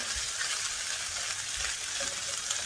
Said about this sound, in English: Stir a couple 2 minutes, 2 to 3 minutes, just to soften the vegetable